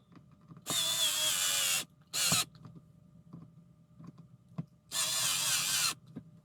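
A cordless drill with its torque setting on 2 drives screws into EMG pickups on a Squier Classic Vibe 60s Jazz Bass. It whirs in two long bursts with a short one between, each cut off as the clutch slips, with faint ticks in the quiet gaps.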